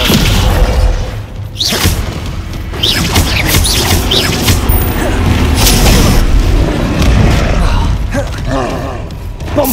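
Descendo spell cast in Hogwarts Legacy, a loud booming magical slam with creaking, crashing debris and whooshes over a dense, continuous game soundscape.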